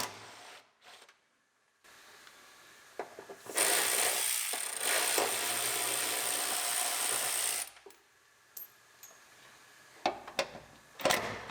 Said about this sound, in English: Now we can unbolt the hangers for the mufflers all the way in the rear.